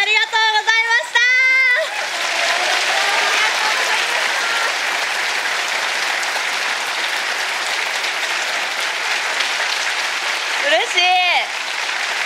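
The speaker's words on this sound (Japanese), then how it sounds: "皆さんが立ち上がって拍手をしてくださり本当に嬉しいです" A theater audience rises in a standing ovation after the final performance of a Hamlet stage play, with loud, dense, sustained applause filling the hall. A voice speaks briefly just before it swells and again as it continues.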